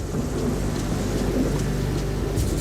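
Violent thunderstorm over a mountain pass in Ecuador: steady heavy rain with a low continuous thunder rumble, loud and close, no voices.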